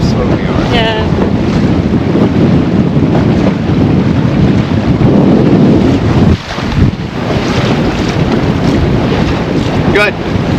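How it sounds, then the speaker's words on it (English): Strong wind roars and buffets across the microphone out on open water, a constant loud rush with occasional gusts and faint chirping sounds. "there is wind, but there is no waves where we are"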